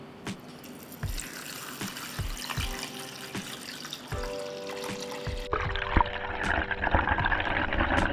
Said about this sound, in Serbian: Sada ću u šerpu sipati vodu do visine poklopca